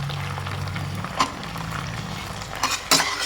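A spoon mixes chicken with tomato sauce, soy sauce and chilli sauce in a dish, giving a few soft scrapes and sharp metallic clinks over a low steady hum, with no talking.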